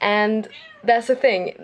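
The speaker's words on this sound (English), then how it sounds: "Sorry about my cats." A house cat meows once near the microphone, a clear drawn-out call at the start, followed by someone speaking briefly.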